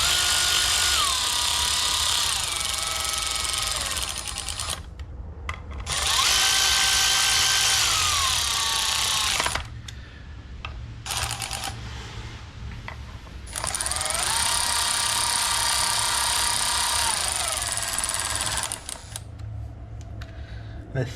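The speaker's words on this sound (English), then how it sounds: "I'm just gonna use my wrench to bring these down" Wrench loosening transmission pan bolts on a Mercedes 722.9 7G-Tronic gearbox, a loud whirring tool running in long bursts separated by short pauses, close up.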